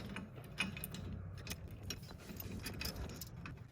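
A ratchet wrench clicks rapidly while tightening brake caliper bolts on a BMW M2 CS, a steady run of close metallic pawl ticks with faint clinks, no talking.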